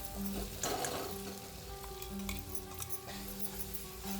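Ground masala with radish greens roasts on a low gas flame, giving a quiet sizzle with scattered metallic clinks and scrapes from stirring.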